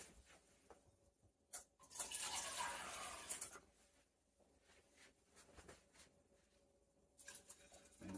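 Water is poured from a vessel into a pot of rice for cooking, a soft splashing pour lasting about two seconds amid quiet kitchen clinks and faint trickles, with no talk.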